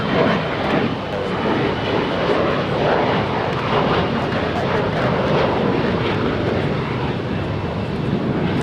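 A Boeing 787 airliner at Los Angeles International Airport gives a steady, loud jet engine roar that holds constant throughout, broadband and continuous, with no speech.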